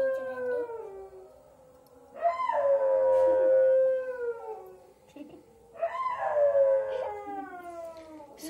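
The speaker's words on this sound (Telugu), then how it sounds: "బయట కుక్కలు చాలా డిస్టర్బ్ చేస్తున్నాయి." Dogs howling outdoors, two long wavering howls rising and falling with a quieter pause between them, heard from some distance inside a home.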